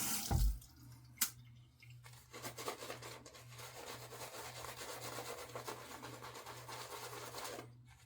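Tap water runs steadily onto a shaving brush, a soft, close, continuous splashing stream after a couple of brief knocks at the start.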